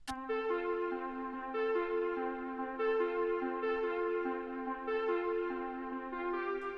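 Quiet electric keyboard chords played in a slow, even pattern, each swelling gently and sustaining into the next, with no talking.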